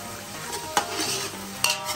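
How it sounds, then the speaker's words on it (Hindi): Onions fry in oil with cloves and black pepper, a close sizzle under stirring, with two sharp utensil clacks against the pan and no talk. "इसमें जाएगा प्याज, प्याज को ब्राउन होने तक फ्राई करने का अच्छी"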